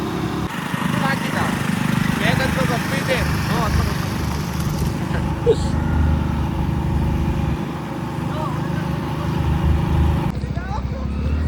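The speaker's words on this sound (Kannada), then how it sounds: "ಮಂಟು ರೋಡ್ ಅಂತೆ ಬೆಟ್ಟದ ಮ್ಯಾಕೆ ಹೋಗುತ್ತೆ ಗಾಡಿ. ಹೆಚ್ಚತ್ತೆ ಗಾಡಿ ಈಗ." A vehicle engine labours steadily up a steep dirt-and-stone hill road, a continuous loud drone with rough low rumble throughout, voices talking over it.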